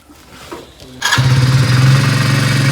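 A motorcycle engine kicks into life after a second of quiet, then idles steadily and loudly with a low, throbbing rumble close by.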